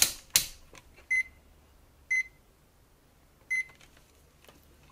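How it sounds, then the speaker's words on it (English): Multimeter continuity-test beeps while probing an ESP32-S2 board for shorts: three short, clear electronic tones spaced about a second apart, preceded by a couple of sharp clicks from the probes touching down. "I'm going to beep it out and make sure that there are no shorts"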